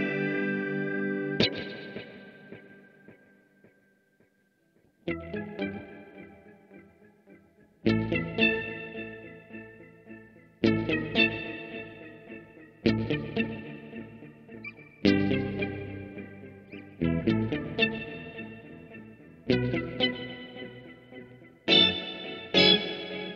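Electric guitar played through a Walrus Audio Luminary pedal with filter and flutter turned up: loud, separate strummed chords every few seconds, each ringing out with a shimmering, wobbling effect and echo, no talking.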